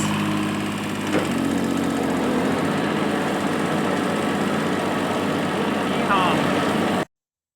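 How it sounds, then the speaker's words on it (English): A lawn mower engine drones steadily and loudly up close, with a brief clunk early on, then cuts off abruptly at the end. "went around with the mower and ran around the perimeter"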